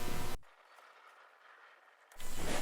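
A sewing machine stitches the seam of a handkerchief skirt, sewn from the waistline down across the pocket. A short loud burst of motor whir runs at the start, then a quiet pause, then the stitching resumes briefly near the end.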